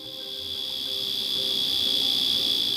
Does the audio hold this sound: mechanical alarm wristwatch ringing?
yes